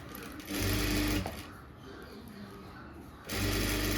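A sewing machine runs in two fast bursts of stitching on a blouse neckline, loud and close, separated by a quiet pause.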